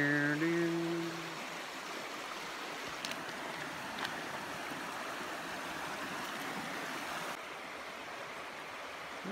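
Howard's Creek flows in a steady, even rush of water near the trail, preceded by a brief tonal sound at the start, with no one talking.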